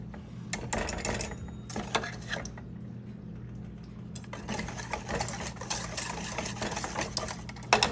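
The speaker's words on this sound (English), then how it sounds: "we're gonna use our whisk. Mix this together." Whisk beating meatloaf ingredients together in a bowl, heard as a busy run of rapid clattering scrapes against the bowl, fairly close, with a brief lull near the middle before the mixing picks up again.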